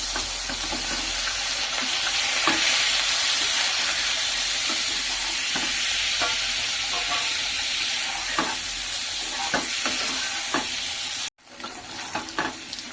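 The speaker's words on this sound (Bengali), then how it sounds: "এরপর ডিমগুলো দিয়ে ভেজে নেব।" Eggs fried in a pan with salt and turmeric for a winter cauliflower and potato dish, a steady loud sizzle with intermittent scraping stirs, then a sudden drop near the end and a quieter sizzle.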